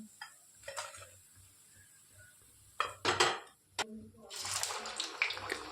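Fried rava vadas lifted out onto a plate: sparse clinks and scrapes of a utensil against the pan and plate, followed by a louder stretch of oil hissing and crackling.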